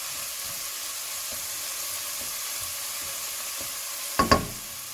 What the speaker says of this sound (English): Quick mix. And the wonderful smell of garlic again